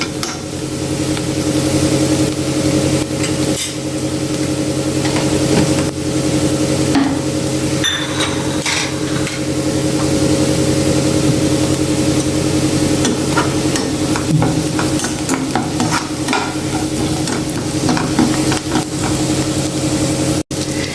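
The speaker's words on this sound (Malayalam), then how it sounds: "നന്നായിട്ട് ഒന്ന് വഴറ്റിയെടുക്കാം." Sautéing in a pan for spinach thoran, with loud continuous sizzling and repeated scraping and knocking of a spoon stirring the ingredients throughout.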